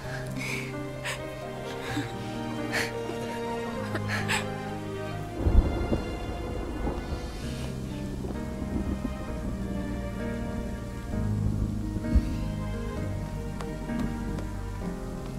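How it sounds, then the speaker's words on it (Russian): Rain patters with thunder rumbling beneath a layer of tonal music, one louder crack of thunder midway through. "Дождь."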